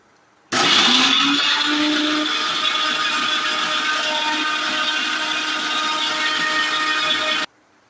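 A mixer grinder grinding chutney paste whirs loudly and steadily for about seven seconds, starting abruptly and cutting off just as suddenly, with no talking over it.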